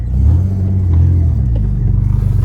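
A modified car's engine revs loudly and steadily at close range, a deep throbbing rumble held for about two and a half seconds with no talk.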